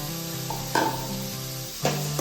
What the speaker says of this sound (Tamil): இப்போ இது கூடவே கட் பண்ணி வச்சிருக்கிற உருளைக்கிழங்கையும் சேர்த்து நல்லா வதக்கிக்கலாம்